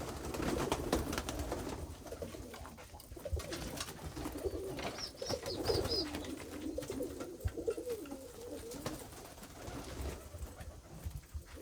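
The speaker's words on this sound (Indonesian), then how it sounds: "memiliki burung-burung yang ada di belakang kita ini" Pigeons cooing at a keeper's home loft, soft repeated low coos from several birds, near but gentle, heard over a steady background hiss with no talk.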